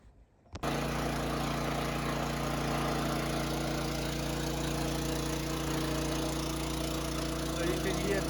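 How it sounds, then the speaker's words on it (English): A cement mixer mixing render with coarse sand: a steady mechanical drone with a low motor hum starts abruptly after a brief quiet moment and runs on evenly, loud and close, with a gritty churning texture. "So you can hear Benji is starting to make the first mix, and we're using coarse sand."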